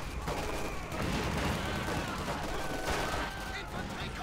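MG42 machine gun fire from the Company of Heroes 2 strategy game, set in a winter battle with flamethrowers burning nearby, forms a dense, continuous wall of gunfire and battle noise that stays loud throughout.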